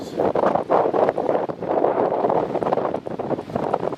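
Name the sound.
strong gusty wind at Newcastle International Airport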